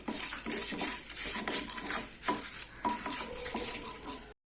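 Dried red chillies drop into hot oil in a pan for Chettinad kara chutney, crackling and sizzling with scrapes of a stirring spoon against the metal, close and busy with no talk.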